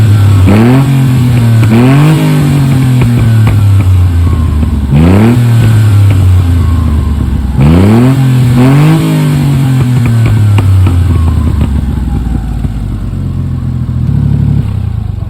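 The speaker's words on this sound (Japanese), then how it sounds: "エンジンをかけてどんな音がするのか聞いていきましょう" A Honda Acty HA4 engine fitted with a Hisawa GIGA N1 half-stainless muffler revs hard in a remote mountain spot, with several loud, close throttle blips rising and falling in quick succession, then settling to a rough idle, with no talking.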